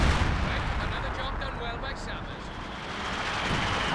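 Anti-tank guns and Land Mattress rocket artillery fire in Company of Heroes 2, a dense continuous roar of battle noise with rumbling booms, loud and sustained for the whole stretch, with a voice talking over it.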